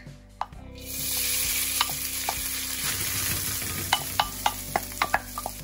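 Tinapa, a smoked fish, frying in a little oil in a hot pan, giving a steady close sizzle with a run of sharp pops and spatters near the end and no talking.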